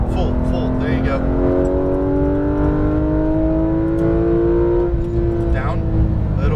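A Porsche 911 GT3 RS on a race track pulls hard under throttle, its engine note climbing steadily in pitch before dipping and rising again. A driving instructor's voice speaks over the loud, close engine.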